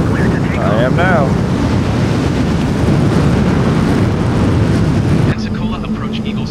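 Loud, steady roar of an F-15 Eagle jet engine heard from outside the aircraft in Microsoft Flight Simulator, a dense broadband rush that holds for several seconds and then shifts to a lower, more muffled tone near the end.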